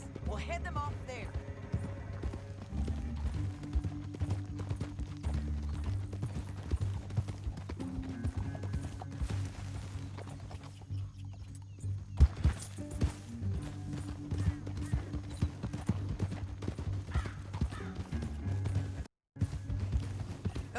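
Horse hooves clip-clop steadily in a trotting rhythm in the video game Red Dead Redemption 2, under background music and scattered effects, with a voice speaking at points.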